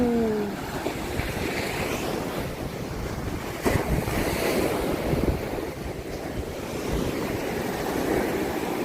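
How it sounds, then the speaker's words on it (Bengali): Big waves roll in and crash at Bakkhali beach as a continuous loud roar of surf, with heavy wind buffeting the microphone throughout and no voices. "বড় বড় উঁচু উঁচু ঢেউ আসছে, কি সুন্দর, কিরম আবার আওয়াজ দিচ্ছে ঢেউয়ে"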